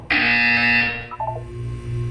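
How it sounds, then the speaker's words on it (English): A loud, harsh electronic buzzer from Portal 2 sounds in one steady blast for nearly a second, then cuts off into a quieter hum with a brief warbling tone. "When you hear the buzzer, look down at the floor."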